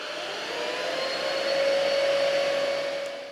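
A JIGOO C300 cordless vacuum cleaner hums steadily close by, a loud even whine whose pitch climbs a little midway, as the motor keeps running with no talking.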